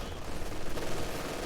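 A gunfire barrage in a strategy video game during a grand-final match, a continuous rattling wash of overlapping shots and blasts with no clear gaps.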